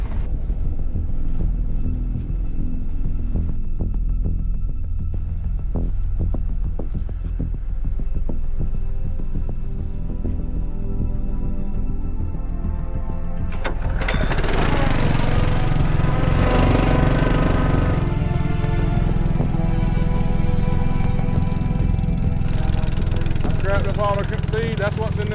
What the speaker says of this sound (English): Let me check that pump real quick.